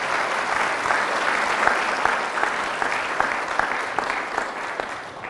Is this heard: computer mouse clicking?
no